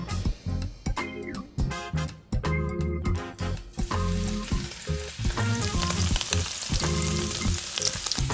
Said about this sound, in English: The next day, I decided to sear off a pepper-crusted filet with this herb-infused ghee.